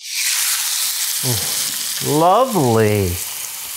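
A bottom round beef roast sears fat side down in hot oil, giving a loud, steady sizzle and frying crackle throughout while someone speaks briefly over it.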